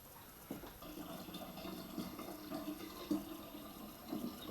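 Water trickles and splashes softly as it is poured to top up a jar of blackcurrant squash wine, faint and close, with a few small gurgles.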